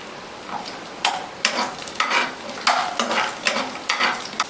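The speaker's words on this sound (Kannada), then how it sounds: "ಈ ಪ್ಯಾನ್ಗೆ ಹಾಕ್ಕೊಂಡು ಹುರ್ಕೊಳ್ಳೋಣ" Green chillies frying in oil in a pan for a South Indian broiler chicken sambar, a steady close sizzle broken by repeated scraping stirs of a spoon against the metal, no voices.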